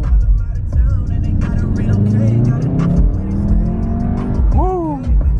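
A Volkswagen Golf R drives along with a steady engine drone and road noise throughout, a rising whine near the end, while people talk over it inside the car.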